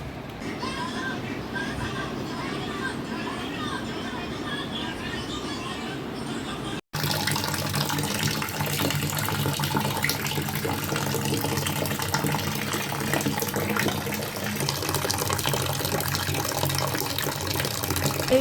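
Tap water runs steadily to soak items, a continuous rushing stream that shifts briefly in tone partway through, with a voice faintly in the background.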